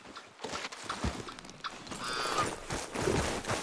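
Horse hooves clip-clop steadily in Red Dead Redemption 2, joined by a whinny partway through, moderately loud over a low game ambience.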